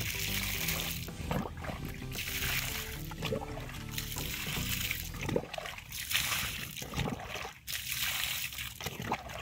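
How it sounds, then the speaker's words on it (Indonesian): Water poured onto an avocado seedling in a field, a soft continuous trickle and splashing under outdoor background noise. "kita siram dengan air"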